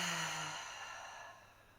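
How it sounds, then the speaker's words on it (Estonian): One slow, deep breath, a long airy exhale that fades gradually over nearly two seconds, close and fairly soft with no speech, during a relaxation exercise for easing anxiety and stress. "sa saad alati võtta sügava hingamise"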